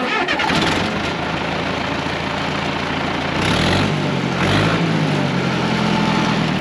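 A tractor's engine cranks and catches after the key is turned, then settles into a steady, loud diesel-like running note with a brief rise in revs partway through.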